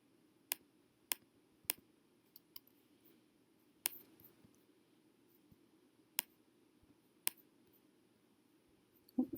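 A computer mouse clicks while someone works at a desktop: sharp, isolated clicks spaced a second or so apart, quiet against a faint room hush, ending in a quick cluster of clicks.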